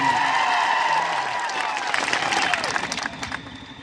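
Crowd applause at a political rally for an MLA, a loud sustained wash of clapping that gradually thins and fades toward the end, with some shouting and cheering mixed in.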